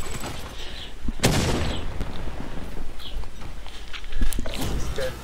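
Call of Duty gunfire during a quad feed, with a sharp loud shot near the start followed by scattered lighter bangs and game effects amid busy background noise.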